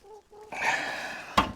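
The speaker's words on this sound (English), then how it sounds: "sorry if you can hear my chickens in the background" Short tonal calls from nearby chickens, followed by a louder squawking cluck and a sharp sudden burst at the end.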